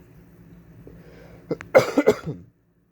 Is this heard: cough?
yes